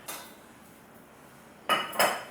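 Pans and metal utensils clatter in a busy home kitchen while bacon and potatoes are being prepared, with one brief clank, then a quiet pause and two louder clashes close by.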